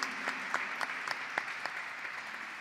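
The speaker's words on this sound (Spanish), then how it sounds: "Así que nuestro aplauso se lo llevas, Aldo, Ana María." Audience applause at an award ceremony for Argentine honorees, a steady, fairly faint patter of clapping with a few sharper individual claps standing out, and no voices over it.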